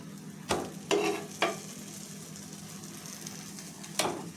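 Cheese butter bread egg frying in a pan, heard as a soft continuous sizzle with several distinct spatula scrapes and pressing sounds spaced irregularly, close by and fairly quiet.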